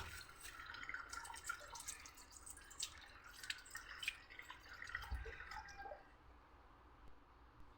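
A kitchen basin being washed under running water, with close, soft trickling and splashing, scattered drips and light clinks over a steady low wash of flow, no one speaking.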